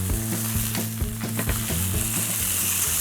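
Homemade hamburger patties sizzle steadily and loudly in a pan just after being flipped, a dense, even crackle with no voices over it.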